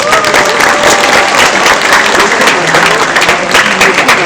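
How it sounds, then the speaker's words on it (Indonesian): An audience at the opening of a Quran memorization exam (Munaqasah) at a tahfidz school gives a burst of applause, loud and close, with dense clapping that runs steadily and swells slightly near the end. "Tepuk tangan dulu."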